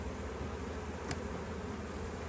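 Honeybees buzzing around beehives during an inspection, a dense, continuous close hum with no pause and no talk.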